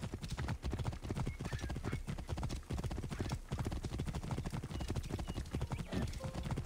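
Horse hooves clip-clopping in steady, rapid rhythm while riding in the video game Assassin's Creed Origins, loud and continuous, with a brief whinny near the end.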